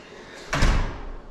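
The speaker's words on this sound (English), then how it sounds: "Garage door closed automatically, which is what we like to see." An automatic garage door in a house under inspection closes with a single brief thud, a dull broadband knock against a faint steady background hum, with no voices.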